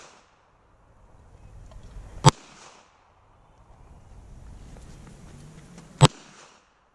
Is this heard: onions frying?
no